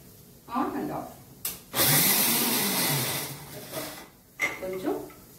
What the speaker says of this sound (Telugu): ఈ మిక్సీలోకి ఈ మినప్పప్పు వేసేసుకొని